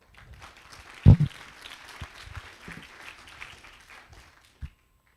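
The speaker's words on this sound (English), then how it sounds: "Give yourselves a big round of applause" Audience applause at an annual fundraiser and tenth birthday celebration, a soft, steady patter of clapping that holds for several seconds, with a sharper burst near the start and a brief thump near the end.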